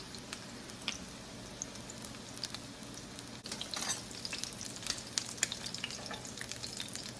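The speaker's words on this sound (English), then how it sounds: "We just want to brown them on each side." Swedish meatballs sizzle and crackle steadily as they brown in a cast iron pan, a close, even frying hiss with occasional stirring and turning sounds and no speech.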